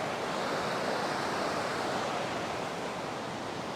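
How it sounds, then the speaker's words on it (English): A river rushes in a steady, broadband wash of flowing water, loud and continuous outdoors, with no voices over it. "look at this river back here"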